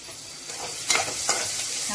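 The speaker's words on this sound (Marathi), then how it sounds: "कांदा चांगला गरम होतोय नरम होतोय" Onions for a vegetable biryani with soybeans fry softly in a pan, a low continuous sizzle broken by two brief scraping stirs close by.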